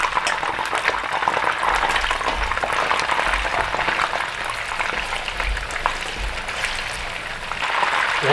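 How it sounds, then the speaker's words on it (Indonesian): Chicken pieces fry in hot oil for a traditional Manado rica-rica dish, giving a dense, steady sizzle and crackle that stays loud and even throughout, with no voices. "Sisanya beberapa potong, kita goreng lagi."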